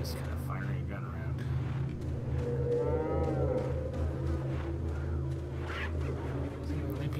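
Cattle lowing in the village of the video game Resident Evil 4, a drawn-out moo rising in the middle of a steady game soundscape with a low background hum.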